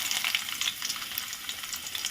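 Crushed garlic frying in hot oil in a kadai for tomato dal tempering, a steady bright sizzle with scattered crackling pops, close and continuous with no talking.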